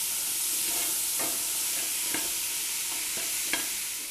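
Jambalaya vegetables with garlic and smoked paprika fry in a pot, a soft steady hiss with a few quiet stirring knocks spaced across the moment.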